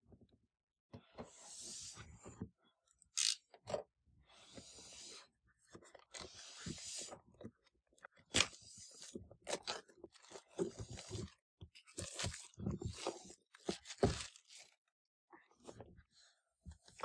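A Dice Hospital board game box is unpacked: scattered short crackles and tearing of plastic wrap and cardboard come in bursts, with quiet French talk heard between them.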